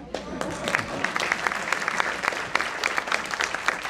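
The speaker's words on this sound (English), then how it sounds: "So please again give him a warm applause." Audience at a public lecture applauding steadily, a dense patter of many hands clapping at close range for the full few seconds, with no voices over it.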